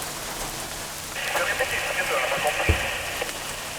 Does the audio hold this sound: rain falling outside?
yes